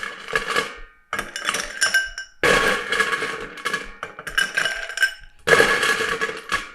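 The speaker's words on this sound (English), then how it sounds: "We want to fill our drinking glasses all the way up with ice." Ice is loaded into a drinking glass to fill it to the top, giving five close bursts of clinking and clattering cubes with short gaps between them.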